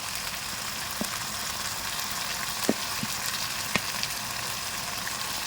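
Chicken pieces and masala sizzle steadily in butter in a pan, a continuous close frying hiss with a few soft clicks and pops rising from it, no voices.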